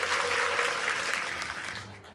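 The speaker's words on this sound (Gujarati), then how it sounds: "અમને ભાઈ જોરદાર તાળીઓ બજાવો." A crowd at a political rally claps in a dense burst of applause that stays full for a moment, then gradually thins and fades away toward the end.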